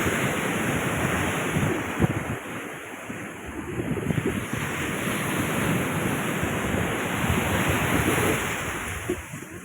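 Sea waves wash onto the shore in a steady, loud, continuous roar, with heavy wind buffeting the microphone and no talking.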